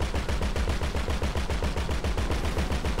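Rapid automatic gunfire aimed at an armored Karuma in the video game GTA V, a steady rattling burst of evenly spaced shots lasting the whole stretch, loud and close with no talking.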